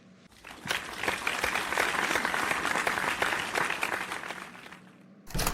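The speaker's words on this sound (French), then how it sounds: "Enfants de Dieu, applaudissez pour Jésus." A church congregation bursts into sustained applause for Jesus, a dense wash of many hands clapping at once that holds steady for several seconds before tapering off.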